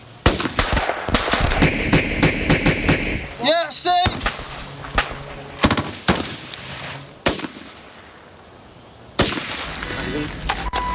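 Sharpshooters' rifles crack in rapid bursts of close, loud gunfire during a combat engagement in Afghanistan, followed by sparse single shots and lulls with voices in between.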